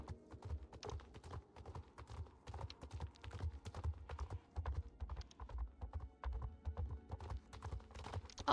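A horse's hooves clip-clop in the game Star Stable at a steady walking rhythm, each footfall distinct and moderately close, mixed with faint clicking.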